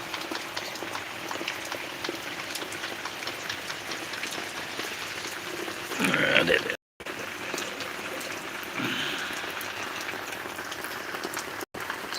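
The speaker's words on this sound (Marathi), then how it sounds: "खूप खूप पाऊस चालू या" Heavy rain falls on a farm in a steady, dense wash of drops, with a brief louder surge midway and two short dropouts; a faint voice may murmur beneath the downpour.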